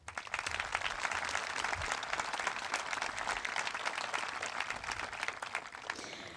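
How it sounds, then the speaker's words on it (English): A high school graduation crowd applauds teachers and staff in a steady, dense wash of clapping that stays even throughout and fades slightly at the very end. "Please join me in a round of applause for our teachers and staff."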